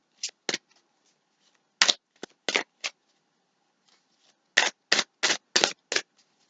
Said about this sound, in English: I think I'm meant to leave them down and shuffle